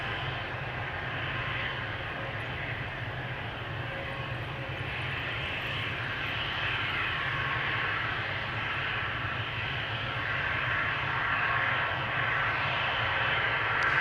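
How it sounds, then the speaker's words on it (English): Steady jet engine roar from a KLM Cityhopper airliner departing Amsterdam Schiphol for Poznan, heard up close and swelling slightly louder toward the end, with no talking. "KLM City Hopper next, going to Poznan, flight 1333."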